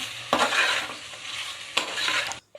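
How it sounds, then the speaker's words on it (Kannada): Mutton frying with turmeric in a pan, a loud close sizzle broken by two scraping stirs of the spatula against the pan, with no voices before it cuts off abruptly. "ಅದರ ಜೊತೆಗೆ ಸ್ವಲ್ಪ ಅರಿಶಿನ ಹಾಕಿ ಮಟನನ್ನು ಚೆನ್ನಾಗಿ ಐದು ನಿಮಿಷ ಫ್ರೈ ಮಾಡಿ"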